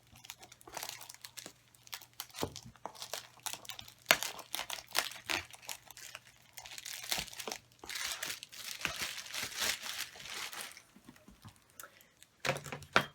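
Close crinkling and crackling of plastic packaging on a toy doll head as tape is peeled off, with sharp rustles and small tearing sounds in uneven bursts throughout.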